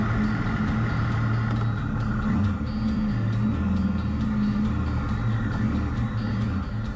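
Triumph Tiger 1200 XCa adventure motorcycle (2018) riding on the road, a steady low engine drone and rumble that runs continuously and fairly loud throughout, with no talk over it.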